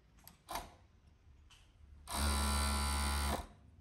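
An electric sewing machine stitches a shirt in one steady, loud burst lasting just over a second, its motor humming evenly, with a few faint handling knocks before it.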